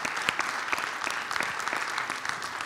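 An audience at a journalism panel on exile journalism claps steadily, a dense, even patter of many hands that holds at a constant level throughout.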